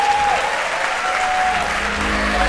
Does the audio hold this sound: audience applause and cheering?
yes